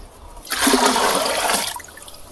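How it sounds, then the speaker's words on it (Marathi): Cow dung slurry for jeevamrut poured into a container, a continuous watery gush that starts abruptly, runs steadily for about a second and then tapers off, close and fairly loud with no talking. "पहिले शेणाचं पाणी करून घ्या आणि नंतर एकजीव झाल्यावर ते पूर्णपणे शेणाचं पाणी यामध्ये एका डाल्यामध्ये तयार करून ते यामध्ये सोडून द्या"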